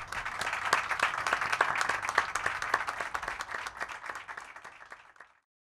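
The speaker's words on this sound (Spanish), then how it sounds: "te damos un fuerte aplauso" Audience applause at a business CEO forum, moderately loud with distinct individual claps audible in the mix, holding steady before tapering off and stopping near the end.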